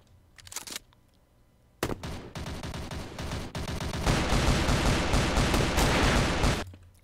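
In the multiplayer shooter Kuboom, a Desert Eagle pistol fires rapid, loud gunshots that run into a dense stretch of continuous in-game gunfire and explosions lasting several seconds, close and harsh, with no voices over it.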